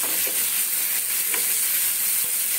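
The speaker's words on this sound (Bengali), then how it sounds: "দেখো তো মশলাটা কষাচ্ছি, কি সুন্দর রঙটা এসছে।" Spice paste with Kashmiri chilli and tomato frying in a pan, a steady loud sizzle throughout with faint scrapes from stirring, close and without speech.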